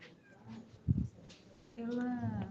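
A cat meows several times at close range, short cries followed by a longer drawn-out meow near the end, with faint background sound between calls.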